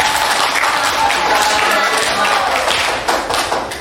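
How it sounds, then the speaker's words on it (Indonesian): An audience claps for a presenting group at a university Islamic studies class session, a steady burst of applause filling the room for a few seconds before thinning out. "beri tepuk tangan untuk mereka semuanya"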